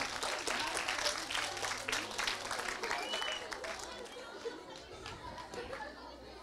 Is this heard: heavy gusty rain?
no